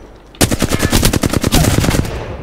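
Rapid automatic gunfire from the video game Apex Legends, a loud sustained burst of evenly spaced shots lasting under two seconds, close and dominant, then a brief fading tail.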